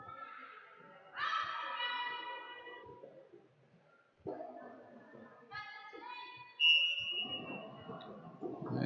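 A referee's whistle at the start of a roller derby game gives a couple of shrill, sustained blasts, separated by quieter stretches and overlapping murmuring voices and crowd noise.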